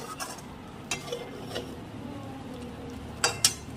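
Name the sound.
adding cornflour slurry to lemon chicken in pan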